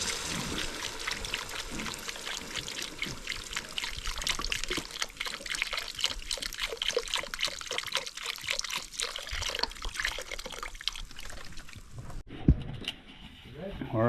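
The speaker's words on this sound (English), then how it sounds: "we're going to put some of this beef broth in here" Beef broth poured into a Dutch oven makes a continuous close trickling, splashing pour for about twelve seconds, then stops abruptly, leaving a short quieter tail.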